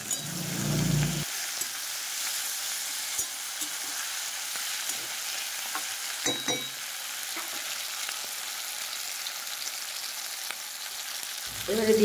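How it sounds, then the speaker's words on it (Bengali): Diced potatoes fry and get stirred with spices in a pan, a steady close sizzle running throughout with occasional scraping stirs and a louder clatter at the start and end. "ডুমো করে রাখা আলু, এইভাবে ডুমো ডুমো করে কেটেছি। মশলার সঙ্গে বেশ কিছুক্ষণ নাড়িয়ে চাড়িয়ে কষিয়ে নেব।"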